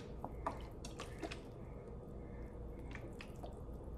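Water from a plastic bottle drips onto the middle of a cake layer being filled with strawberries, Ninho powdered-milk cream and white chocolate. A few close, soft wet drips and splats stand out over a steady low room hum.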